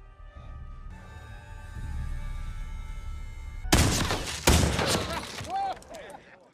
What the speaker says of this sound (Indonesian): Faraday meminta Goody untuk menunjukkan cara menembak yang benar